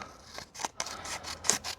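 Nextool Flagship Max multitool scissors cut through a sheet of A4 paper folded into two layers, making a quick series of close, crisp snips and rasps in a steady rhythm.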